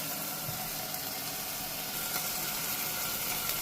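Fenugreek leaves frying in a little oil for a moong dal dish, giving a steady, close, hissing sizzle that stays even throughout, with no voices.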